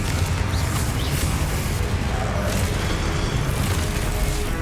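Confringo fire-blast spell exploding in the Hogwarts Legacy game, heard as a steady, loud low-end rumble and crackling burst that fills the whole stretch without any talking.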